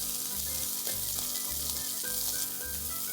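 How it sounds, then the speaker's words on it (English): Shredded onion fries with cumin seeds in a pan, making a loud, continuous hissing sizzle close by. Background music with steady tones runs underneath, and no one speaks. "I'm going to add in 1 shredded onion, cook the onion for a few seconds."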